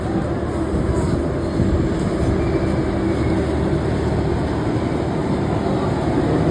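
A train engine idles while standing at a station, a steady continuous low rumble with a constant hum that fills the whole stretch without a break.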